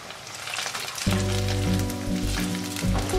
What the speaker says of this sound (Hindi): अभी ये तेल गर्म हो चुका है, धीरे धीरे करके हम इस पनीर को रख देंगे।